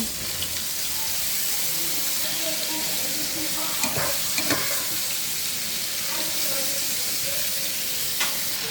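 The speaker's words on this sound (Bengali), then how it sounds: "এখন একটু হলুদ আর লবণ দিয়ে এই তেলেই ভেজে নেব।" Steamed cauliflower frying in oil with turmeric and salt, a steady sizzle running throughout with occasional stirring scrapes and clinks of a utensil in the pan.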